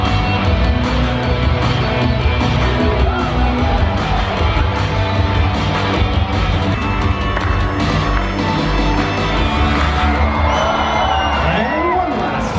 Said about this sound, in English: please give a big round of applause to Kale, our very drenched volunteer